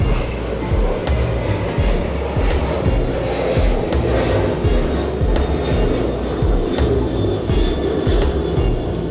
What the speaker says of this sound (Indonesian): Sebentar ada pesawat lewat.